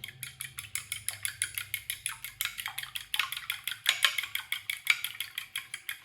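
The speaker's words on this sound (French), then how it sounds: "Déjà, on va commencer par battre les œufs" Eggs and milk are beaten quickly in a bowl, a fast, even series of sharp whisk clicks against the sides, close and continuous with no talk.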